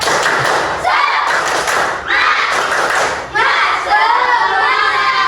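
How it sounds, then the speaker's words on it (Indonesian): A classroom of students performs the 'tepuk semangat' clapping chant, loud rhythmic clapping in several bursts mixed with shouting young voices, briefly dipping between rounds. "Sekali lagi, tepuk semangat."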